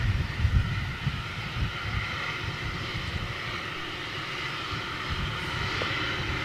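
An ATR turboprop with carbon propeller blades drones steadily at moderate distance, a low rumbling engine hum with some uneven low thumps and no voices.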